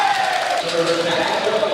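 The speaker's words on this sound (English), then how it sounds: "I guess the Lancers crowd found their noisemakers here" Men's volleyball crowd in a college gym during a Lancers versus Grizzlies match, fans blowing noisemakers in a continuous droning, wavering blare over steady crowd noise.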